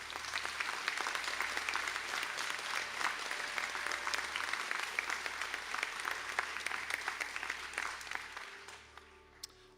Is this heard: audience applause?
yes